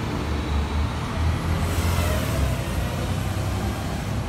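Steady diesel rumble of a bus engine idling and pulling away on a street in Stratford Upon Avon, a continuous low drone with mild revving swells and broadband traffic noise throughout, no voices.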